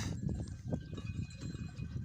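Goats bleating amid a busy outdoor herd, with faint clanking bells and rustling movement close by.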